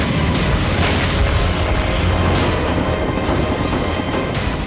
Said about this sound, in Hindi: टूटी हुई इमारतों से अचानक रॉकेट प्रहार